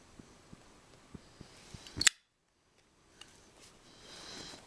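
Scissors snip through braided lanyard cord for a waterfowl call, a couple of quick crisp cuts up close after some soft handling taps, then near silence and faint rustling.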